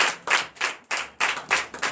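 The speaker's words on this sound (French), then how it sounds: "Donnez l'acclamation à l'Éternel." A church congregation at a Sunday service in Comè, Benin claps in a steady rhythm, about eight sharp loud claps spaced evenly over two seconds.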